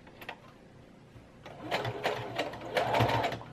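Sewing machine top stitching a fabric collar onto a mesh shirt for a tall Ringwraith cloak costume, heard as a quiet start followed by several louder, close bursts of rapid mechanical stitching.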